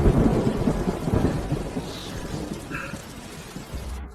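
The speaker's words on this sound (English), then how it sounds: "the rain's too heavy" Heavy rain pours in a dense, steady roar while a deep rumble of thunder rolls through, loud and close, slowly easing toward the end.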